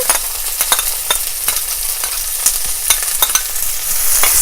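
Onions and ginger frying in a pan hiss steadily while a utensil stirs them, giving repeated sharp scrapes and clicks at a brisk, irregular pace; close and loud, with no voices.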